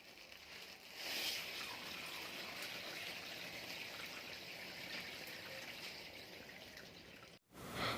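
Water poured steadily over lentils in a bowl to soak them, a continuous close splashing trickle that runs for several seconds, briefly cuts off, then resumes.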